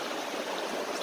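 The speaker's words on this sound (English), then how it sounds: "You can kind of see this creek" A creek in thick woodland flows steadily with a soft, even rush of water, quiet and continuous throughout with no voices.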